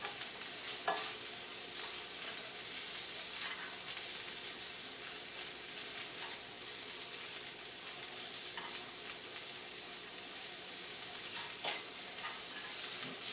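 Chopped vegetables for an omelet fry in a hot pan, seasoned with chili powder and cumin: a steady, even sizzle throughout, with a few soft scrapes and taps from stirring.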